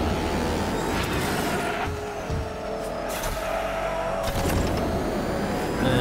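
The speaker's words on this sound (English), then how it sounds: "Turbocharger sounds are always something to enjoy." A turbocharged car engine revs and surges loudly in the racing game Hot Wheels Unleashed 2, with changing pitch as it accelerates and brief squeals between shifts.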